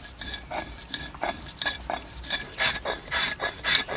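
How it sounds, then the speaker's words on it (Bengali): Cumin seeds ground on a stone grinding slab, an even rasping scrape repeating about twice a second, close and fairly loud, with no voices. "প্রথমে জিরাটা বেটে নিচ্ছি"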